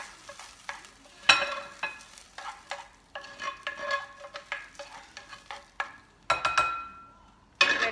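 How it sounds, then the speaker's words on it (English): Slightly charred corn being mixed in a bowl, a string of close scraping, clattering strokes with ringing metallic knocks, irregular and fairly loud, no talk. "Put this in the bowl, and we are going to mix it."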